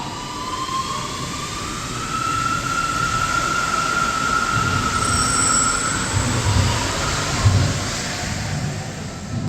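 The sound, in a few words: VAL 208 metro train running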